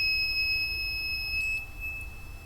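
A buzzer on an MDS-60 metal detector kit gives a steady high electronic beep tone that holds for about two seconds, then cuts out over low background hum, with no talking.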